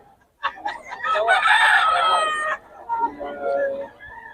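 A rooster crows loudly nearby in one long call, then a second quieter crow or cluck follows; someone may be talking faintly in the background.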